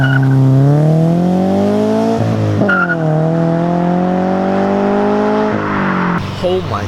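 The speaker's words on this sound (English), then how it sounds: "Here, I'm gonna do a soft launch." A Subaru BRZ with an Agency Power header does a soft launch, its engine note climbing loudly, dipping at a shift and climbing again close by, with a voice heard at the end.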